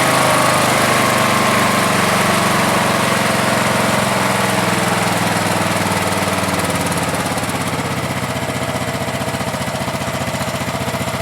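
Craftsman 16HP LT1000 lawn tractor engine with a 42-inch deck at full idle after carburetor tuning, a loud, steady, close-up mechanical chug with constant vibration throughout and no voices.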